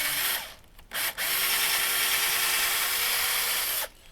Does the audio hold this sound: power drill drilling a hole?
yes